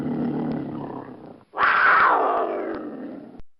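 Battle Cat, He-Man's tiger, gives two loud, close roars, each a deep growling bellow that swells and then fades, with a short break between them.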